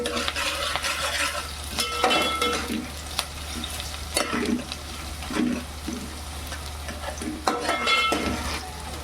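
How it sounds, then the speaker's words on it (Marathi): Sliced garlic cloves fry in oil in a pan and are stirred, a steady sizzle broken by repeated scraping strokes of a spoon against the pan, close and fairly loud. "त्याच्यानंतर मी ह्या लसणाच्या पाकळ्या टाकते कापून घेतलेल्या"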